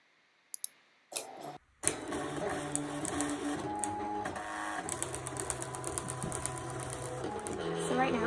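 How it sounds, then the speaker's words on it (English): A printer feeding and printing a page for a Silhouette print-and-cut job, opening with a few sharp clicks and then settling into a steady mechanical whirr and rattle of rollers and print head, loud and close. "send it to our printer"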